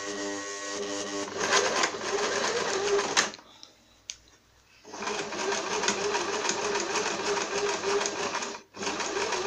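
A sewing machine stitches rapidly forward then backstitches with a steady mechanical whir, pausing briefly mid-clip before resuming, then stopping again near the end.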